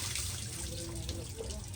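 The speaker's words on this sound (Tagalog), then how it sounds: "Katugnaw sang tubig sa bubon." Cold water from a well running and splashing steadily, a faint, close trickle like a tap filling a basin, with low murmurs in the background.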